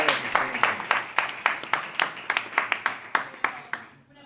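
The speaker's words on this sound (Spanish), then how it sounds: "Un aplauso para Pablo." A small theatre audience at a post-show talk claps in sparse, distinct, slightly uneven hand claps, fairly close, that taper off and stop near the end.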